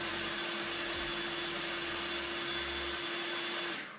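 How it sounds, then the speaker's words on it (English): A blender whirs loudly and steadily as it blends a lemony mixture, holding one even motor drone for several seconds before cutting off near the end. "We just gotta blend it up"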